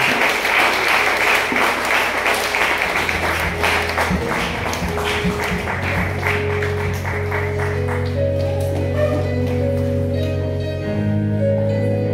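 A church congregation at a special Sunday service in Mokolo claps and cheers steadily, the rhythmic applause mixing with music whose sustained organ-like tones grow more prominent as the clapping gradually thins out.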